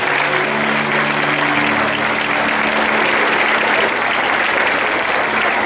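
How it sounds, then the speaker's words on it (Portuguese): A church congregation applauds loudly and steadily, a dense, sustained wall of clapping that fills the whole stretch without letup. "Aplauda bem alto ao Senhor Jesus."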